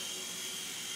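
A helicopter in flight gives a steady broad whirring roar, loud and unbroken from start to end.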